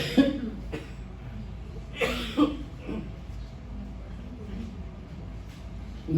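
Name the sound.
coughing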